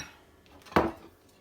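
A spoon knocks once against a bowl while Bisquick biscuit dough made with poppy seed and canned milk is stirred, a single close clank over quiet background.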